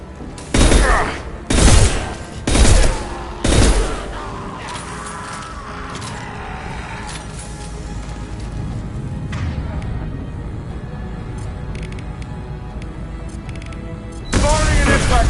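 Impact shot gunfire in Mass Effect 2, four heavy booming shots at roughly one-second intervals followed by a long stretch of lower rumbling game action, someone talking over it, with another loud burst near the end.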